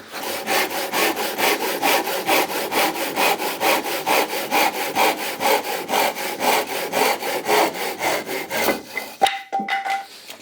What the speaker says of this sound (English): Find the side of that saw, put it in the slot